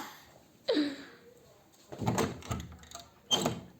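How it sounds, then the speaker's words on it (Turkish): A back door being shut and locked indoors: a sharp thud with a short creak, then several rattling clunks of the lock and handle, close by and fairly loud. "Bak kapıyı da kilitledim ondan kurtulmak için"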